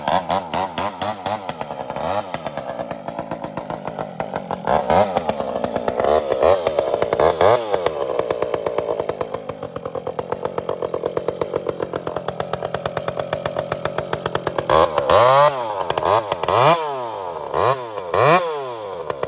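A chainsaw, unused for about three weeks, starting and running loudly at close range beside a tree stump, with its engine revving up and down in repeated surges and idling in between.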